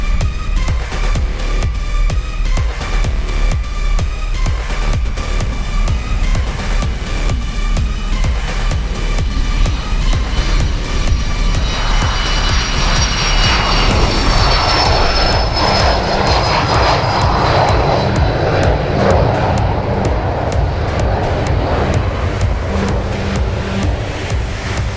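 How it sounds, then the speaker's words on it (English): An airplane engine roars loudly and continuously, its whine building and spreading into a broad rushing noise as power increases. "you figure out how to throw the throttle forward, and it starts spooling up the engine"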